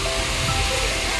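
A waterfall in the Keonjhar countryside roars in a dense, steady rush of falling water, loud and close throughout a brief moment.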